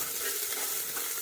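Chopped small onions sautéing in a pan for coconut rice and chicken curry, a brief, soft, even sizzle close by with a faint stirring hiss and no talking.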